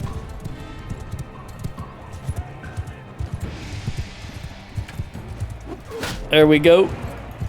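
Horse hooves clip-clop in Mount & Blade II: Bannerlord, a steady rapid beat of footfalls under battle noise, followed by a short spoken phrase near the end.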